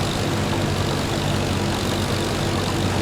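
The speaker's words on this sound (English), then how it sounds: "using this ancient Alice Chalmers trail combine with the Alice Chalmers tractor, which is the most powerful one we have." An old Allis Chalmers tractor pulling an Allis Chalmers trail combine while harvesting sorghum in Farming Simulator 25, set in 1960: a steady, loud, low droning engine hum with an unbroken, even tone throughout and no talking.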